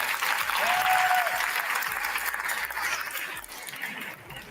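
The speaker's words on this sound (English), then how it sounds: "Let's give them another round of applause." Applause from a gala audience, fairly distant and fading gradually toward the end, with a brief whistle near the start.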